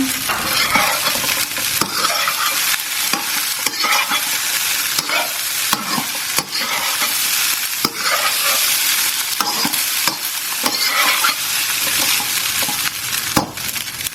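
Prawns stir-frying with Thai fried rice in a pan, a loud steady sizzle broken by frequent sharp scrapes and clacks of a spatula throughout, with no voices.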